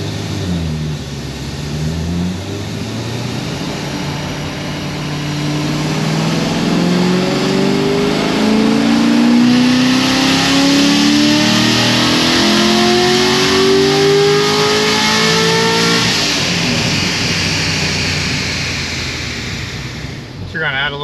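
An LS7 V8 engine runs a dyno pull. Its loud, close roar climbs steadily in pitch for several seconds, then eases back down as the pull ends.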